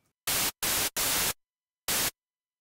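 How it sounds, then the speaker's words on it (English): Four bursts of harsh white-noise hiss from the noise generator on a Logic Pro X synthesizer oscillator: three close together, then one more after a pause, each cutting off abruptly into silence. "I'm going to turn on oscillator 3 and set it to the noise generator"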